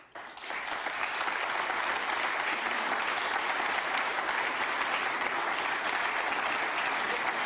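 A large audience in Munich applauds a speech, sustained dense clapping rising quickly after a brief quiet start and holding steady throughout, fairly distant and even.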